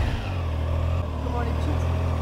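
A newly bought motorcycle's engine runs and revs on a short test ride in Boulogne, a loud, steady, close mid-pitched drone that rises slightly as it accelerates.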